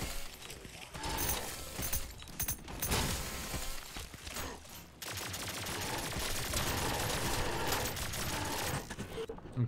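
Turret gunfire in the cyberpunk shooter Turbo Overkill: dense, loud rapid-fire bursts with sharp crackling impacts, broken by brief pauses and then a long sustained barrage.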